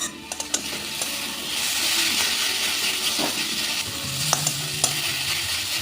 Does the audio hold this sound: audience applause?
no